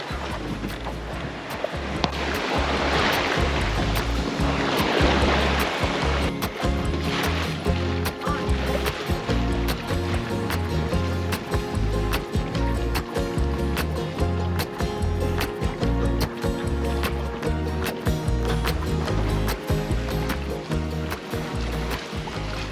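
A sailboat on an open-sea passage from Cape Canaveral to the Bahamas rushes through ocean waves, giving a continuous broad wash of water with recurring low thumps from the hull, loud and steady with no voices.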